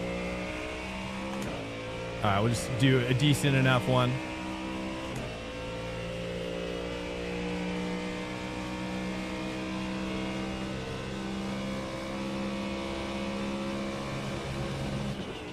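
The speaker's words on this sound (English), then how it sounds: "Yeah, the Ford is ridiculous with these engine noises." Ford GT3 race car engine in the iRacing video game: a steady engine drone with a short, sharp rev burst early on, heard beneath someone speaking briefly.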